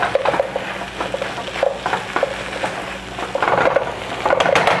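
Scrambled eggs with beans and vegetables are stirred steadily in a frying pan over a soft sizzle, with the spoon scraping and tapping the pan in a continuous close rhythm.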